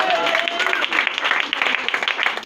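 A church congregation claps and applauds the Lord in a loud, dense burst of many hands, the clapping continuous and close throughout with some voices mixed in.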